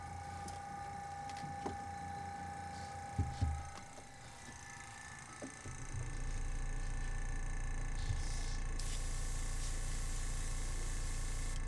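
An empty airbrush blowing air to dry out, heard as a steady hiss that starts midway and stays loud and continuous to the end, preceded by quieter handling noises.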